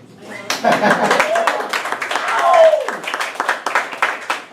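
A small meeting audience gives sparse, uneven clapping for a Toastmaster being introduced, with a voice speaking over the claps partway through.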